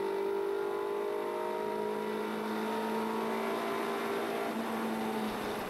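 Lotus Elise 340R race car engine at Brands Hatch during an Elise Trophy race, a loud sustained whine with steady revs and a slight pitch drift, heard alone.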